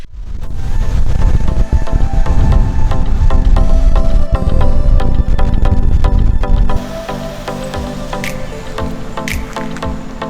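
Ocean surf and gusting wind at Sagesse Beach in Grenada, a loud, steady wash of breaking waves with wind rumble that drops to a calmer, quieter wash partway through.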